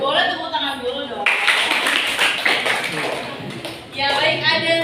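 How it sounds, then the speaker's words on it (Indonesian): A classroom audience claps after a group presentation, a burst of dense applause framed by a voice speaking before and after. "Boleh tepuk tangan dulu dong."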